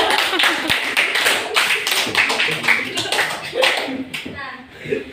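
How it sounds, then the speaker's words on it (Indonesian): Students in an Indonesian classroom clap their hands together in a dense burst of overlapping claps, with children's voices chattering beneath, fading near the end. "Beri tepuk tangan untuk semuanya."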